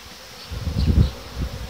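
A low, steady buzz of honeybees at a hive swells and fades briefly, close by and fairly faint, with no voices.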